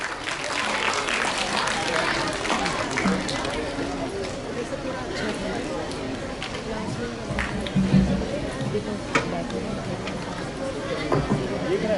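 Sustained applause from a crowd of children and adults at a school quiz competition, with chatter mixed in and sharper claps standing out near the end, at moderate distance.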